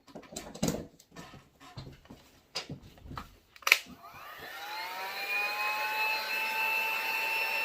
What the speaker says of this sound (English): This heat gun is electric.